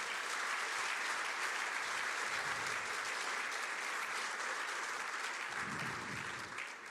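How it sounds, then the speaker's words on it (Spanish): A church congregation claps for the Lord, thick sustained applause filling the room at steady loudness, easing slightly toward the end, with no speech over it. "Le da un aplauso al Señor,"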